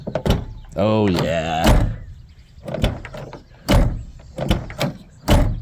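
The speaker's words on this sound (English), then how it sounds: "close the door. Let's see if it opens more easily now." A Toyota AE86 car door with a formerly corroded, sticky mechanism is worked open and shut, giving several sharp thunks and latch clicks amid a short creaking squeal, with someone talking briefly.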